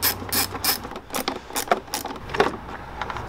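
A ratchet fitted with a 7 mm socket loosens the airbox top on a Ford Focus RS, giving quick rapid clicking bursts in short repeated strokes, close and fairly crisp.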